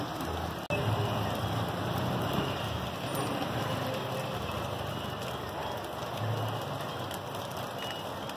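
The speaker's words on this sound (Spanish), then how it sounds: "Llueve incesantemente acá en la ciudad de Cali" Heavy rain pours steadily across the city of Cali, in the Siloé neighborhood, a dense, even hiss of drops on surfaces with a faint, distant passing vehicle.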